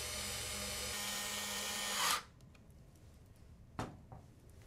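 A power screwdriver tightens screws while an AutoRAE 2 controller-based safety system is assembled, whirring loudly and steadily for about two seconds before stopping, followed by a couple of faint clicks.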